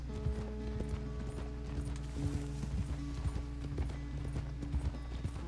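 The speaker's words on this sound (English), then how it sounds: "Don't let Jack go too fast or he may buck off the horse." Horse hooves clip-clop steadily in Red Dead Redemption 2, a rhythmic stream of hoofbeats over a low mechanical hum with faint creaking.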